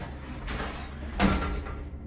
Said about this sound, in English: Just wait for the doors to close.